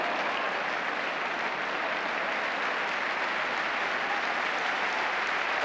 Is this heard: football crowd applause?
yes